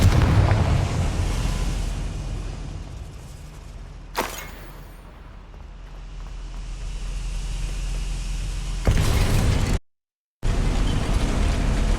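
A Confringo blasting spell fired in Hogwarts Legacy: a sharp crack followed by a long rumbling boom over a steady low ambient roar, then a second burst before a brief dropout to silence.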